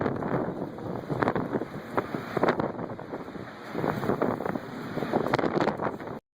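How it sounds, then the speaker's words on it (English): Strong wind roars around a 230,000-ton ship, heavy continuous buffeting against the microphone with rushing gusts, loud and unbroken, no talk heard. "Look at that damn wind"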